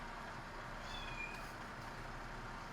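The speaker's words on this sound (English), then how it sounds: "There's a cat sound." A recorded cat meow plays from the external speaker of a ZEEKR X, a single short, faint meow rising over a low background hum.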